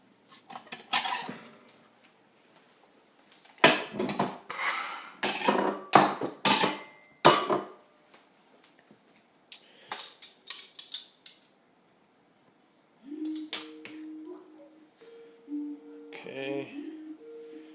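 Bowls and dishes clatter and clink in bursts as homemade vegetarian noodle soup is plated, with sharp close knocks and scrapes separated by pauses and a brief voice near the end.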